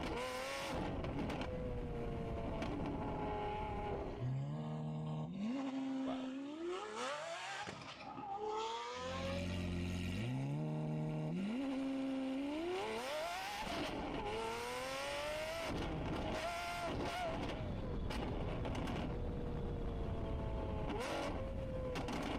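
A loud Porsche GT3 sports car engine revs hard, climbing through the gears in repeated rising surges with brief drops between shifts, sounding close and aggressive with no talking.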